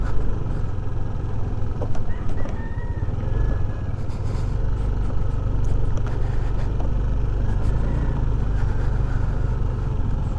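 Cars and motorcycles pass along a bypass road near Alaminos and San Pablo City, a continuous loud low rumble of engines with brief rasping motorcycle swells and scattered clicks.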